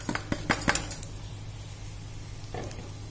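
Scoops of rice dropped into a frying pan with garlic and leftover barbecue meat, a few close clattering knocks against the pan followed by a faint quiet sizzle.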